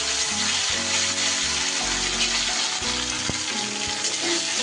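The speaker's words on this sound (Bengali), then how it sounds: "আদাটাকে একটু নাড়িয়ে চাড়িয়ে কষিয়ে নেব।" Ginger and green chilli paste sizzles loudly with tomato in a hot pan while being stirred, a steady frying hiss with light scraping, and background music plays throughout.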